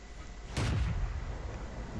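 A Cromwell tank's gun firing in World of Tanks, one muffled boom rising out of a steady engine rumble and lingering briefly, moderately loud with no talk.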